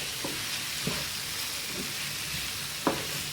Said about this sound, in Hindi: अब हमने डाली है शिमला मिर्च।